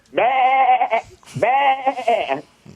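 A man mimics a goat with two long, quavering bleats separated by a short pause, loud and close.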